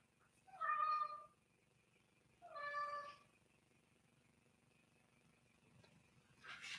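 A cat gives two loud, drawn-out meows in a row, close by, with a short pause between them in an otherwise quiet room.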